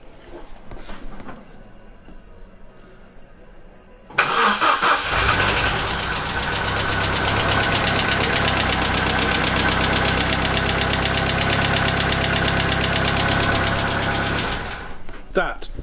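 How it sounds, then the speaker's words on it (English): A Vauxhall Corsa engine, after a head gasket repair, cranks briefly inside a closed garage, catches and roars to life, then settles into a loud, steady idle before cutting off near the end. "I think I'm going to give it a crank and see what happens"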